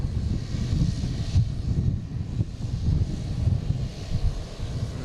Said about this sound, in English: Embraer Phenom 300.